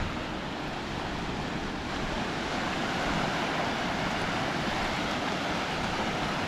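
Ocean waves wash onto a beach on a morning walk, a broad continuous hiss of surf with gentle swells, mixed with some wind rumble against the microphone and no voices.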